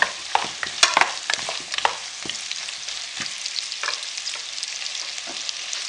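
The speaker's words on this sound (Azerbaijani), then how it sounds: "Çox da yox, biraz qızardıram. Yəni yağın içərisində azca qaynamış olsun" Steady oil sizzle in a pot while lightly frying for pumpkin soup, with sharp clinks and scrapes of stirring that cluster early and thin out, close and fairly loud.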